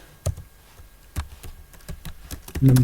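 Code being typed on a computer keyboard, a sparse run of sharp, close key clicks at an uneven pace, ending in a brief louder hum.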